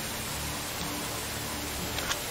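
Steady rain falls in the video game Medieval Dynasty, a dense, even hiss that fills the whole clip with a few faint droplet ticks.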